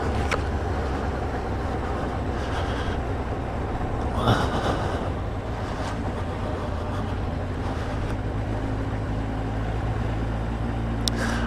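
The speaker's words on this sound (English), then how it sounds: "they have a little miniature railway here" Low continuous rumble of a miniature railway train running nearby at Saltburn, with a brief rattling burst partway through and faint clicks.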